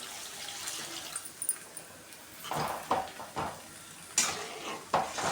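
Water poured into a pan of sizzling tomato thokku, hissing and bubbling up sharply, followed by a spoon stirring and scraping the pan in short bursts.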